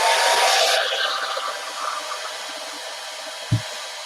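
A hair dryer blowing on ink on Yupo paper, a loud steady whooshing hiss that eases off slightly after the first second, then carries on, with a single soft knock near the end.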